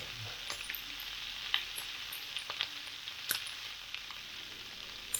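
Bacon frying in a pan, a quiet continuous hiss with scattered sharp pops and crackles, heard alone without speech.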